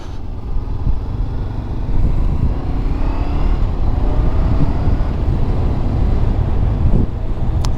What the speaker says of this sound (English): Accelerates okay, definitely not a boring bike to ride.